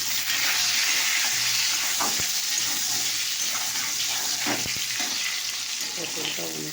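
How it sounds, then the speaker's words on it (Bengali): Pointed gourd (potol) fries in a pan of oil with a loud, continuous close-up sizzle and hiss, broken by a few brief clicks of stirring, with no talk. "পটলটা অনেকটা ভাজা হয়ে গেছে"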